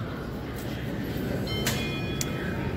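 Metro train rumbling through an underground subway station, a steady low roar with faint metallic squeals and clicks above it, moderately loud and continuous.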